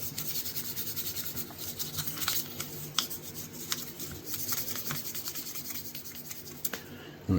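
A vintage knife is lightly rubbed to polish its finish, making a steady soft close rubbing hiss with faint scraping strokes over a low background hum and no talk.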